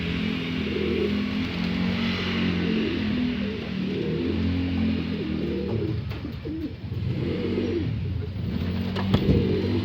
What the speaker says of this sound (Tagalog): Yun, pumasok ng mga ibon natin